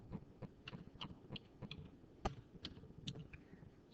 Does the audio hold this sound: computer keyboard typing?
yes